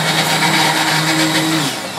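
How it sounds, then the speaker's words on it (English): A blender whirs loudly and steadily through boiled potato and leek soup in a restaurant kitchen, a dense continuous motor roar that dips slightly toward the end. "So now what we're doing is just blending the soup after boiling it."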